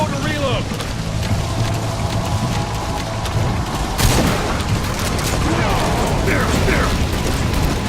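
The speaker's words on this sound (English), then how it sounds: "Careful, the gun's slow to reload!" A gun being reloaded in Metal Gear Solid V, with mechanical clicks and ratcheting set in a dense, loud game mix of gunfire, booms and ambient noise, and voices shouting over it.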